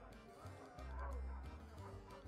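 A dog in the pirate video game Sea of Thieves gives a few short woofs and yips, fairly faint, with a soft whimpering quality amid game background noise.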